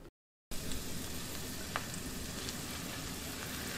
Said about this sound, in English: I can hear a little bit more sizzle in my pot, so that I know my oil is pretty hot.